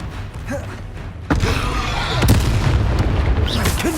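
A fiery Confringo spell blast in Hogwarts Legacy bursts in with a sudden loud boom, followed by a sustained crackling roar and a few sharper pops over a rumbling game background.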